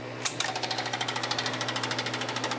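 A 1972 Seeburg SPS-160 jukebox mechanism with a reversing switch problem runs with a rapid, steady mechanical clatter, close and moderately loud, repeating evenly throughout with no talking.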